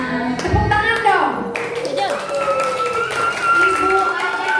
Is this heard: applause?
yes